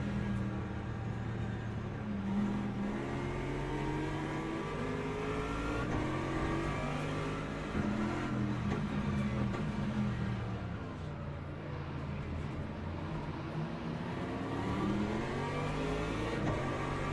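A BMW engine revs steadily in a racing video game, a chaotic race among hypercars. The engine note rises and falls through gear changes, with other cars' engines droning alongside at moderate, constant loudness. No voices.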